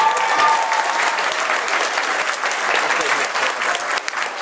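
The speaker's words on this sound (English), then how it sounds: "let's give it a round of applause for Mr. Maurice Lamarche" An audience at a comic convention panel applauding a voice actor, dense sustained clapping from a large crowd that fills the space evenly and continues throughout without letting up.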